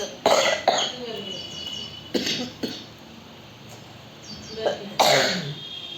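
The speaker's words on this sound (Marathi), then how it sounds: "खोकला झालाय" Several harsh coughs ring out close by, coming in pairs with short quiet gaps between them.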